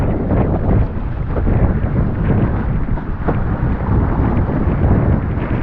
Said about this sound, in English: Just suddenly got a bit windy.